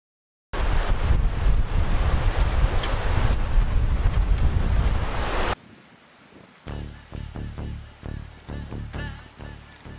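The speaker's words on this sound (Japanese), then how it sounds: "小休止を終えて再び走り出すも、またもや強風との戦い。" Strong wind roars over the microphone during a bike ride on a mountain road, loud and steady for several seconds before easing to a quieter, gusty rush.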